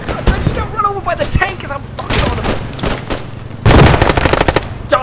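Machine gun fire rattles in close, loud bursts on a 1944 Western Front battlefield in Post Scriptum, broken by gaps and ending in a dense sustained volley, with voices shouting among the shots.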